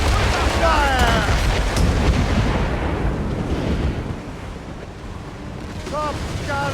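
Naval cannon fire in Assassin's Creed Rogue rumbles as heavy booms over a constant roar of sea and wind, with brief voice fragments at the start and end.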